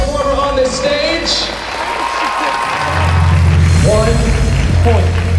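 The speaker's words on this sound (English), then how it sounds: "One more big round of applause for every performer on this stage." Audience applause and cheering for performers at a dance nationals awards ceremony, with a crowd roar swelling toward the end. A voice is heard talking throughout.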